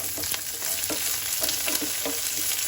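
Roughly chopped onion sautéing in a pan makes a loud, continuous sizzle, broken by rhythmic scraping strokes of a spoon stirring it, with no voices.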